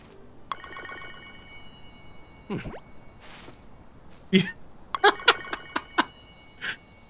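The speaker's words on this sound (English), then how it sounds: "You thought we were done ringing this bell." Bright metallic bell tones ring out in several separate strikes in the game Story of Seasons: Grand Bazaar, some quick doubled hits, over a quiet background with occasional clatter.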